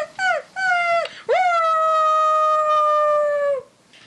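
A puppy shut alone in a basement howls and cries in long, rising and wavering wails, a few short yelps leading into one sustained mournful howl that fades at the end, loud and close with no talk.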